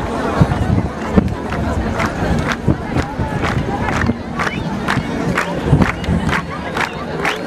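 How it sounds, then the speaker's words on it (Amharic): A church congregation ululates and claps in loud, sustained bursts, a dense crowd roar with sharp clap transients scattered throughout, mixed with cheering and babble. "እልልታ ጭብጨባ ሲለ ጌታ ስጡልኝ አንድ ጊዜ"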